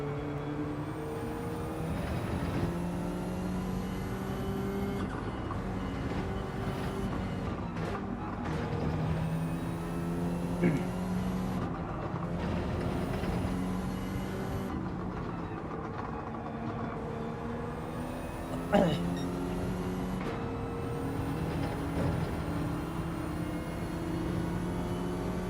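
Subaru BRZ driven in Gran Turismo 7, giving a steady, continuous engine drone with layered tonal harmonics that shift slightly in pitch, heard alone without talk.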